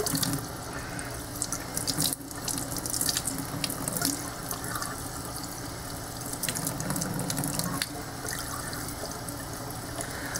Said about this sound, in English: just keep washing it out till it's clean